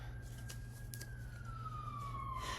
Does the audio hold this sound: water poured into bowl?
no